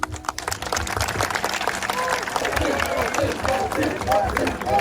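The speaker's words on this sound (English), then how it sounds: "So cheers and round applause for your excitement." Audience applause and cheering at a Kecak dance show at Uluwatu Temple in Bali, a continuous roar of crowd clapping with voices and shouts mixed in, lively and sustained.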